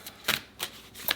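Oracle cards handled and shuffled for a tarot reading, with three quick papery riffling swishes close by in a short run, with no talking.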